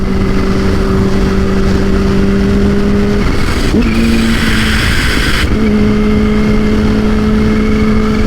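A Kawasaki H2 motorcycle engine running on E85 roars loudly and steadily at high revs, dips briefly mid-clip, then climbs again, very close and with no talking.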